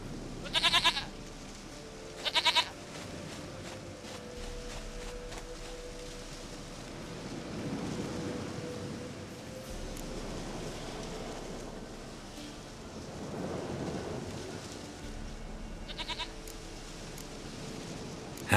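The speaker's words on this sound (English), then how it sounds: "Goat of mine, dearest, sweetest goat." A goat in The Witcher 3 video game bleats twice in quick succession early on and again later, sharp nasal cries over a soft ambient wash of game background sound, with no talking.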